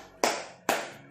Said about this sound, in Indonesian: sebelum memulai pelajaran kita tepuk semangat dulu ya